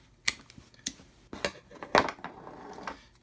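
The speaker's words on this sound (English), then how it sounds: "some scissors, and cut about 1 inch strip off of your drink koozie." Scissors make several sharp, separate snips while cutting a one-inch strip off a fabric drink koozie, close and fairly quiet, with no talking.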